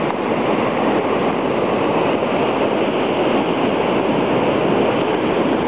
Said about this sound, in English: Right where all those waves are.